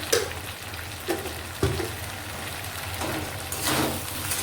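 Spices frying in a pan with turmeric and salt, a rough sizzle with a few stirring scrapes and a louder hissing surge near the end.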